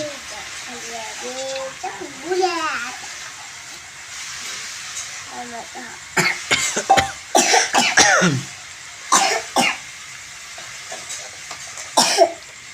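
A person coughs in several harsh, closely spaced bursts amid a kitchen with faint background hiss, after some brief voiced sounds early on.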